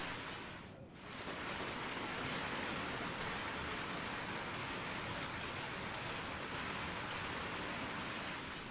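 Sudden summer rain falls in Ahmedabad as a dense, steady hiss of downpour that fills the scene evenly from start to finish, with no voices.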